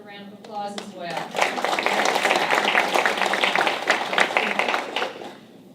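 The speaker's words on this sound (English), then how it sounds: "Can Mom stand for a round of applause as well?" Audience applause at a county school board meeting for a student's mother, a dense sustained burst of clapping that swells, holds steady for several seconds, then tapers, with a voice briefly heard before it builds.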